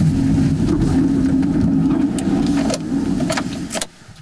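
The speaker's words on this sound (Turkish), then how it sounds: "Arabamızı park edelim." A car pulling in to park in Dortmund, Germany: a steady low engine and road rumble fills most of the clip, easing off toward the end before cutting to near silence, with faint clicks on top.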